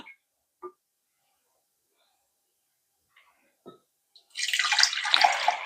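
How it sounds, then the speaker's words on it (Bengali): About one cup of water poured into a bowl while making jalapeño pickle, a short splashing gush arriving near the end after a few faint clinks, close and fairly loud. "তাতে আমি দেব 1 কাপের মতন জল।"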